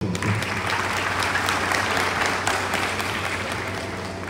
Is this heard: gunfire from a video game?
no